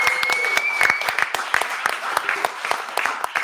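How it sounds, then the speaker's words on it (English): Live studio audience applauding during a podcast recording, a steady dense patter of many hands clapping that carries on throughout, with voices mixed in underneath. "give a round of applause to Andy?"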